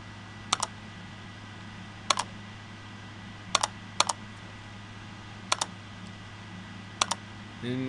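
A search query is typed on a keyboard: sparse, quiet keystrokes land mostly in quick pairs, about six clusters spread evenly over a low steady hum, with no talking.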